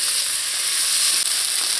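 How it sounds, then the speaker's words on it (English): Chopped tomatoes fry in a pan for a provision and saltfish dish, giving a steady, close sizzle and hiss that holds evenly throughout without any talking. "I'm going to add in the chopped tomatoes also. Give that a mix and just cook until the tomato breaks down."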